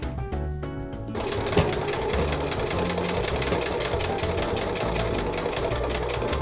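A sewing machine stitches the seam of a small elephant plushie with back stitching, its motor starting after a brief quiet second and then running as a steady, close, rattling whir without a break.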